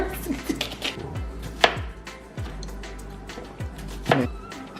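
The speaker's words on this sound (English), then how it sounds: "Our nice vegetables cut up." A knife chops vegetables on a cutting board for a vegan wok dish, with several irregular, crisp thunks spaced apart, close and clear over a quiet background.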